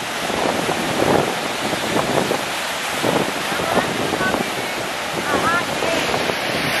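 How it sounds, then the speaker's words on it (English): Big four-foot breakers crash on a Door County shoreline, a loud, continuous roar of surf mixed with strong wind buffeting the microphone. "Look at the breakers, there must be 4 foot waves."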